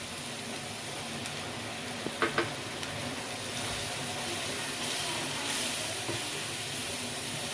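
A chili powder masala for a katla fish dish hisses and sizzles in a pan with a little water, with a few clinks of the spoon early on and a steady steamy sizzle throughout.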